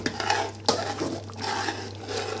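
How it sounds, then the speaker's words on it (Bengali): A spoon scrapes and clinks steadily against a pot while pure butter ghee is stirred in for Bangladeshi khichuri, close and moderately loud, with faint sizzling underneath and no talking. "my missus, she's stirring it all in"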